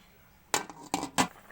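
Three sharp metallic clanks spaced about a third of a second apart, like a metal lid being set down and settling onto a pot of sardine soup.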